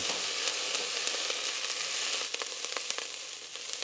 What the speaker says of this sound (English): We want to cook this down until the onions have a slight brown color to them.